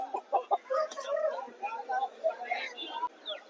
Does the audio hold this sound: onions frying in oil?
no